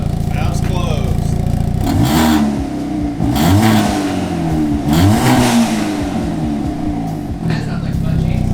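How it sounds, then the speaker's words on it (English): A Hyundai Elantra N on its stock exhaust with the valves closed revs repeatedly, loud and close, its engine note rising and falling in a muffled, droning tone. "This stock exhaust. Valves closed."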